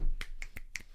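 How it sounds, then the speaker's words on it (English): Four crisp finger snaps in quick succession, close and fairly quiet, with no voices. "Happiness. We snap for you."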